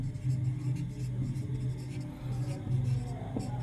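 A hand writes out an answer, pen or chalk strokes scratching in short bursts over a low steady room hum, with faint speech in the background.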